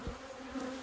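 Honeybees buzz at an open beehive in a steady, close, low drone with no break.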